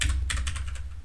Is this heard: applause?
no